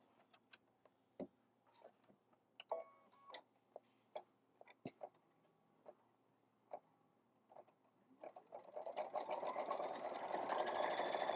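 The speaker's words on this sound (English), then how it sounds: "now I am going to do my decorative stitch for the center of my block" A sewing machine works a decorative stitch on the center of a hexagon quilt block, first with sparse, uneven clicks and taps, then building into a steady close whirring run toward the end.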